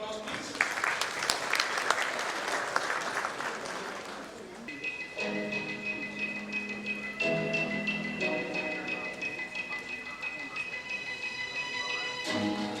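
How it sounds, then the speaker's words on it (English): Applause from a finance summit audience welcoming a speaker, heard mainly in the first few seconds, then fading under tonal music and ambient hall sound. "Can we welcome Amit with a big round of applause, please?"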